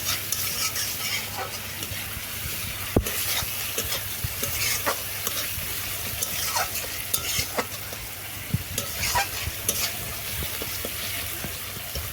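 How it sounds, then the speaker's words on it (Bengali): Spice paste with green chilli and cumin powder sizzles steadily in a hot pan for egg curry, close by, as a spoon stirs and scrapes now and then. No voices. "মশলাটা সুন্দরভাবে ভাজা হয়ে গেছে"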